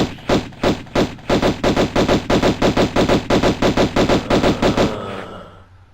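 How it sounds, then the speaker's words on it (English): Tomb Raider on the PS1: Lara fires her pistols at a guard in the Tomb of Qualopec. It starts with a few spaced shots, then a fast even volley of about twenty loud gunshots, and the last one echoes out into silence. "you can just shoot him if you want"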